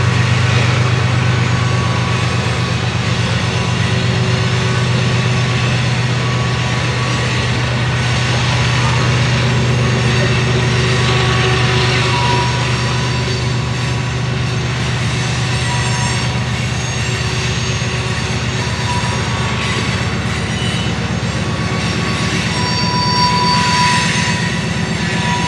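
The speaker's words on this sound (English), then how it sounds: "Dueling DPUs on the CSX" A CSX freight train with distributed power locomotives rolls past steadily for the whole stretch, a loud, continuous rumble of engines and wheels with shifting tonal drones and no voices.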